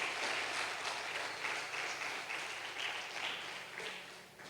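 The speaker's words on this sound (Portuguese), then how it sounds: "Você dá um aplauso para Jesus aí disso aí" A church congregation applauds for Jesus in a sustained, even wash of clapping that holds at a moderate, slightly distant level throughout.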